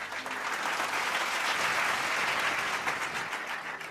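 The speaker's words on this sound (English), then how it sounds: "Please join me in a round of applause for 2021's Shared Team Recognition Award winners" A crowd at a staff years-of-service celebration applauds award winners, a broad, steady wash of clapping that swells slightly in the middle and holds at moderate loudness with no voices on top.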